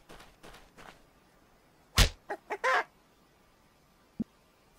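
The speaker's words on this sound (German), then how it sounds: "ich finde es cool, dass wir ein goldenes Huhn haben" A golden chicken clucks in the farming video game Farm for Your Life: a sharp burst, then a few short clucks and a longer squawk, with one faint peep later over quiet background.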